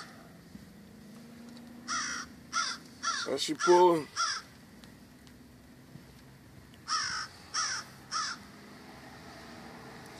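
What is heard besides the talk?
crow cawing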